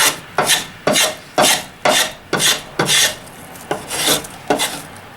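Japanese compass plane (sori kanna) with a curved sole cutting a piece of wood, ten crisp rasping strokes in a regular rhythm, close and clear with no talk.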